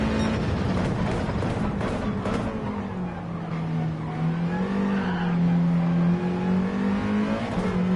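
Race car in a racing video game at Fuji, its engine droning steadily at close range while the tyres slide, the pitch wavering as the car moves through the slide.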